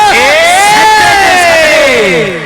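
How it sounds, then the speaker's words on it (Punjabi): Spectators at a Punjab kabaddi match erupt in a loud, sustained cheer, topped by a single long rising-and-falling whoop that rings over the roar before fading. "ਉਹ ਜੀਵਨ ਲਈ ਤਾੜੀ ਵੱਡੀ ਸਾਰੀ"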